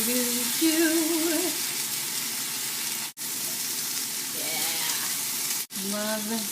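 Sliced yellow squash frying in a pan, a steady close hissing sizzle running throughout, with voices chatting over it and a couple of brief dropouts.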